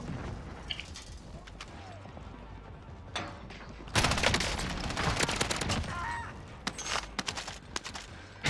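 Gunfire in a first-person shooter game, bursts of rapid shots crackling loudly across the clip, densest in the second half, with distant battle noise beneath.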